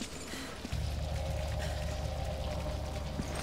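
Shower water pouring steadily in Resident Evil 5, a constant broadband rush that starts abruptly and keeps going evenly with no talk over it.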